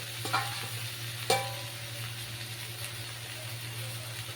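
Mixed vegetables fry in their own released oil with a soft, continuous sizzle and hiss, a couple of spoon scrapes and one sharp clink early on, heard up close without talk.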